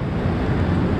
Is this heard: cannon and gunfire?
no